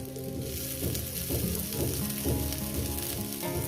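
Mourala fish frying with onion and coriander leaves gives a constant close sizzle, broken by rhythmic stirring pulses.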